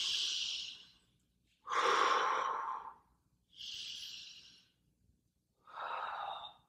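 Slow, audible breaths during a cat-camel exercise on a mat: four long airy exhales and inhales alternating with short quiet pauses, close and fairly soft, with no talking.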